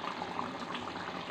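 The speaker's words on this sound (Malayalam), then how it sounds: "നമ്മളെ കറി നോക്കി നന്നായി തിളച്ച്" Chicken curry boiling in a pot, a brief, soft, steady bubbling burble heard close up, with no talking.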